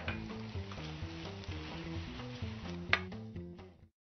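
Shrimp and broccoli in a thickened sauce with sliced green onions sizzle steadily in a hot pan during stir-frying, with a brief clatter near the end and background music throughout.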